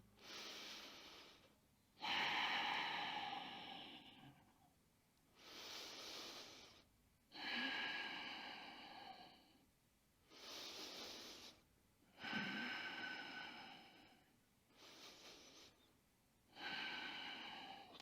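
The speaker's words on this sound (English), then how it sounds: "Breathing deep through the nose only, keeping the tongue pressed solidly to the roof of your mouth." Deep nasal breathing during a back exercise for spondylolisthesis, done with the tongue pressed to the roof of the mouth: close, steady inhale-exhale cycles, about seven over the span, with no talking.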